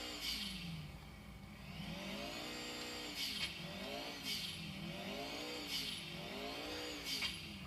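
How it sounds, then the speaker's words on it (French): A Sultan RS car engine in GTA IV revving over and over, its pitch climbing and falling in repeated waves, with sharp bursts between the revs and a steady hum underneath. "En fait, c'est un beau moteur qu'on entend là."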